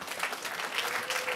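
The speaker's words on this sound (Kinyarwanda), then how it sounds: "bagukomera amashyi" A crowd at a Rwandan wedding gives brief, steady applause for the mother, a dense patter of many hands clapping at moderate distance.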